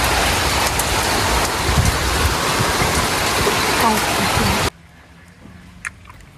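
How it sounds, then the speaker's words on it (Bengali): Heavy rain pours steadily on a rainy day, a dense close roar lasting most of the clip before cutting abruptly to a much quieter patter with a faint knock near the end. "এই বৃষ্টি এখন মনে হয় না যে থামবে"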